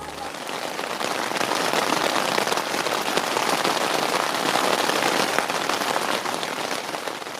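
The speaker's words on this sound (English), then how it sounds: "It was really heavy rain the whole night" Heavy rain drums steadily on a tent, a dense, constant patter of drops filling the whole stretch with no break.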